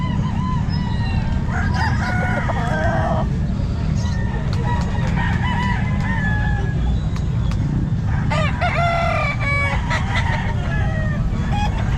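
Roosters crow repeatedly at a busy Calumpit pet market, several birds overlapping with clucks against a steady crowd din and nearby chatter, calls rising loud and near in bursts.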